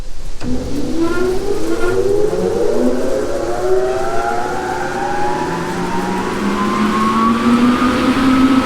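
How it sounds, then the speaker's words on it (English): Small centrifugal grain bin fan starting up and spinning up, its tone rising steadily in pitch as it gains speed, loud and continuous with a whining, siren-like sweep and no talk. "It's just a little centrifugal fan, I believe that's what it's called."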